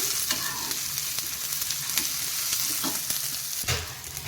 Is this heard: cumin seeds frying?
yes